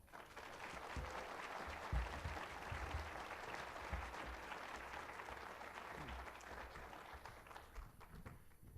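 An auditorium audience at a university town hall applauds steadily to welcome the chancellor, a dense, even wash of many hands clapping alone for several seconds with no voices over it.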